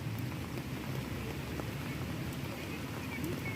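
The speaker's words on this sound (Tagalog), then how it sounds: "Ayan o, lakas na ng ulan." Heavy rain pours steadily as a dense, even hiss of drops on surfaces, with no talk over it.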